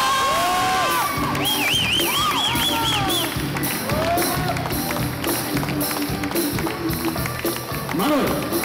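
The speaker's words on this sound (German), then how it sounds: "Meine Damen und Herren, begrüßen wir mit einem kräftigen Applaus." A crowd at a casting show finale in Eisenstadt erupts in loud cheering, whoops and shouts for a contestant, a dense roar with high excited voices and whistles rising above sustained applause.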